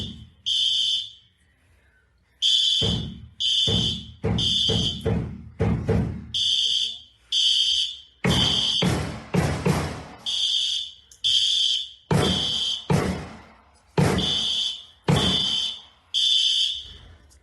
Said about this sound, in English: the fire alarms went off